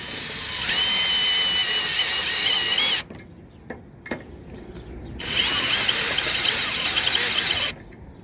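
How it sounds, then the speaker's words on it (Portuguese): A cordless power screwdriver set to torque 15 drives screws into Roman roof tile fixings. Two loud sustained whirring runs are separated by a quiet gap with a few faint clicks. "Ela está na função parafusadeira com torque de 15"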